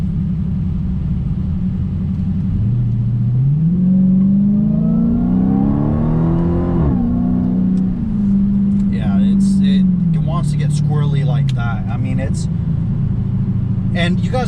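A 2020 Dodge Challenger Hellcat engine growls and climbs in pitch as the car accelerates, then holds a steady drone and eases off. A voice talks over it throughout.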